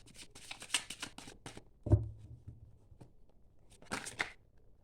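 Tarot cards being shuffled by hand, several quick riffling bursts of crisp papery flicks with a soft thump on a table between them, close and fairly quiet.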